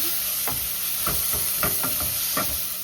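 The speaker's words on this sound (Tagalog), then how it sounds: "Igisa na natin ang ating garlic kung mayroon ang onion" Garlic and onion sauté in a hot pan with a continuous sizzle, broken by several soft knocks and scrapes from stirring.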